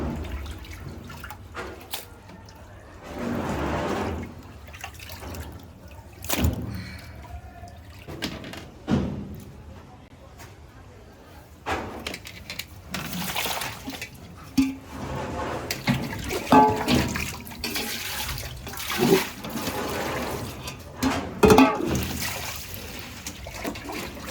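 Large prawns are washed by hand in a big vessel of water, with intermittent splashing, sloshing and trickling in uneven bursts, close and moderately loud.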